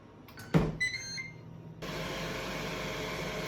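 A Ninja Foodi Grill set to air fry Oreos: a thud and a few appliance beeps, then the fan starts and runs as a steady, even whir.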